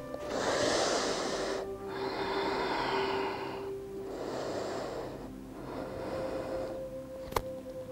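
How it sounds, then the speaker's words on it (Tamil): Deep yoga breaths flow in and out at a slow, even pace: four long, airy, close-miked inhales and exhales, each several seconds long, heard alone with a faint steady hum beneath. "ஒரு ஆழ்ந்த மூச்சு உள்ளே எடுத்து வெளியே விடலாம்."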